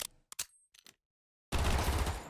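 Pistol firing in rapid automatic bursts in modded Minecraft survival: a few short sharp shots, a pause, then a dense loud burst of fire that runs to the end.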